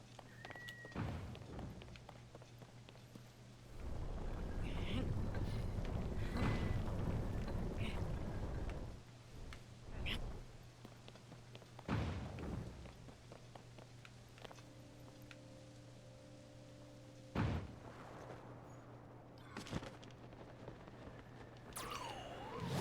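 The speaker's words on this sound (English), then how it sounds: "our best bet is to just shoot ourselves that way using this launcher" A launcher flings Link through the air in Zelda: Tears of the Kingdom, marked by a long, loud whooshing rush of wind, followed by scattered thuds and thumps against a faint steady hum.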